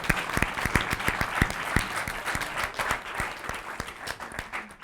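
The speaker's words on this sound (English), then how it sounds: "let's give them a round of applause" Audience applause at a student government presidential debate, a sustained wash of many hands clapping with a few sharp individual claps standing out, loud and steady without talk.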